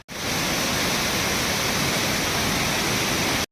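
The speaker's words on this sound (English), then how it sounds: "Just in front of me here is the creek that we're going to go up" A mountain creek on New Zealand's west coast rushes nearby, a loud, unbroken roar of flowing water that stays constant from start to finish with no voices.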